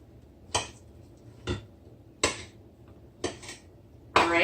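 A knife cuts eggplant into pieces on a cutting board, five separate sharp chopping knocks spaced about a second apart, close and fairly quiet, with no talking.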